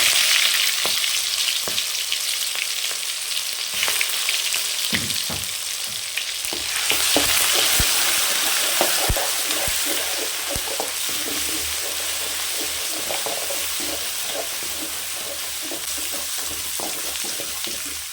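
Ginger garlic paste, curry leaves and a green chili fry in hot oil for a mutton curry, a continuous loud crackling sizzle with frequent sharp pops and stirring scrapes throughout.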